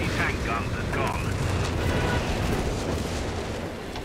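Artillery shells exploding in Company of Heroes 3 during a battle near a headquarters, heard as a continuous, dense rumble of booms and crackling blasts with a voice speaking over part of it.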